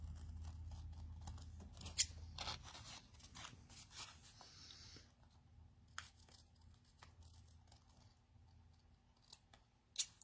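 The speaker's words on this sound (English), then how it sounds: "Take a pair of scissors." Quiet, close scissor snips and crinkly paper rustles as scissors cut along a paper envelope, in scattered bursts with a few sharper clicks and no speech.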